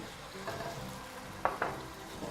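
Minced beef sizzling in a pan: a soft continuous frying hiss with a couple of sharper crackling bursts as the meat slides in, quiet overall and without talk.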